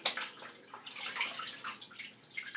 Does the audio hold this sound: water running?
yes